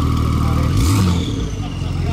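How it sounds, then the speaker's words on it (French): A Koenigsegg Agera hypercar with a turbocharged engine revs in Monaco, a loud, close rising engine note swelling briefly above steady street rumble while a person talks over it. "juste derrière, on a une voiture de fou qui arrive, c'est cette turbo qui fait un bruit de malade"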